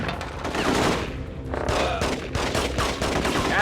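Gunfire from enemies with shotguns in the PS2 game The Getaway, a dense barrage of overlapping blasts and cracks with no letup, loud and chaotic.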